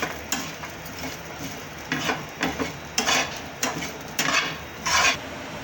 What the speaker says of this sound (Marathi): थोडीशी खसखस टाकायची, एक अर्धा चमचा जिरे टाकायचे, त्याच्यात व्यवस्थित भाजून घ्यायचे